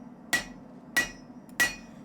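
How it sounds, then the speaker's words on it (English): A glowing steel bar struck on an anvil as it is drawn out toward a knife shape: three sharp, ringing hammer blows, evenly spaced about half a second apart, loud and close with short decays. "And you're gonna start hammering it"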